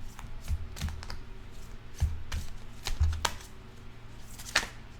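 Oracle animal cards being shuffled by hand, a series of quick close riffles and soft snaps in irregular bursts, no talking over them.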